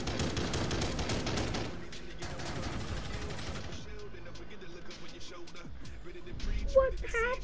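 A shotgun fires again and again in a video game, a loud rapid barrage of blasts that thins after a few seconds into scattered shots under a talking voice.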